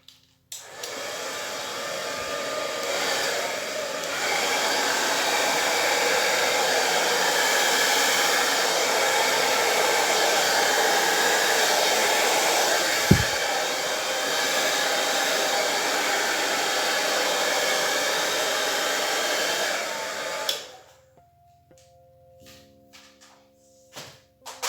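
A hair dryer blows steadily and loudly across an acrylic Dutch pour painting with a dark blue base, running continuously for about twenty seconds before switching off, with no talking.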